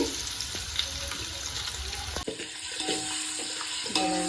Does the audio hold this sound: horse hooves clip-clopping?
no